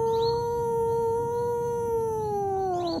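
A Persian cat lets out one long, sustained, loud meow at close range, holding a steady tone before it tails off at the end.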